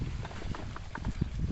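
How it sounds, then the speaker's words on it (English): Horses walking across an English field near Escomb give irregular clip-clop hoof strikes on the ground, several distinct thuds over a low outdoor background, fairly close and moderately loud, with no speech. "Some horses here in the field."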